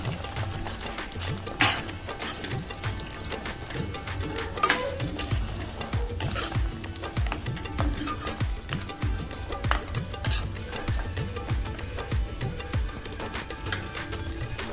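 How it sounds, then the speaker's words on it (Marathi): Yogurt being stirred into mutton curry in a pan for a Mughlai mutton dish, with steady soft scraping and wet mixing sounds over a faint sizzle, continuous and close, no talking. "त्यानंतर आपण याच्यामध्ये ऍड करूया दही आणि हे चांगलं फिरून घ्यायचं."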